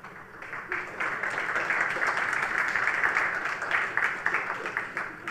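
Steady audience applause, many hands clapping together from a moderate distance, holding at an even level for several seconds before thinning slightly at the end, at a tech conference talk on Apache Spark, Iceberg and Dremio.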